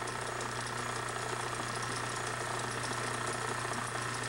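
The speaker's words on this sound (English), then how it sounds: "I have my lathe set at 15 degrees. And we'll proceed to cut them off." A lathe set at 15 degrees runs steadily while cutting the teeth off a brass clock gear ring for a one-piece barrel, giving a constant even hum with a faint rapid chatter and no pauses.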